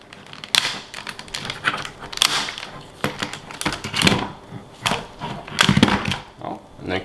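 Plastic interior trim clips on a BMW G30 popping free as the panel is pressed out from the side, a series of sharp clicks and snaps close by, with speech mixed in between.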